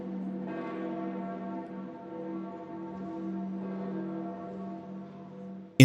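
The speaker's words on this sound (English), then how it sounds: "Bells tolled as leaders from more than 150 countries took their places for the papal funeral." Church bells toll at Pope Francis's funeral as world leaders gather, a deep resonant ring sustaining and slowly decaying with a fresh strike partway through, heard alone without voices.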